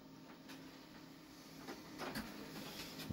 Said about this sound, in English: my printer's going off right now